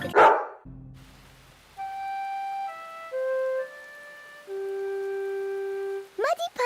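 Dog barks dubbed over a Peppa Pig cartoon: a short bark opens and a few bursts close, framed by a simple tuned melody in between.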